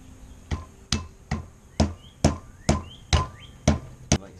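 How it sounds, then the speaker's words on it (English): A hammer strikes during a front brake replacement on a Foxbody Mustang 5.0 LX convertible. Nine sharp, loud blows land at a steady, even rhythm, close by, with no talking. "This is my hammer"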